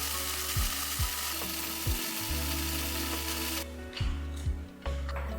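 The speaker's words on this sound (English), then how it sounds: "I will grind them into fresh coffee powder and store it in an airtight container." Roasted coffee beans being ground in a grinder at home, a loud rasping mechanical grind with rhythmic ratcheting clicks that drops off sharply near the end.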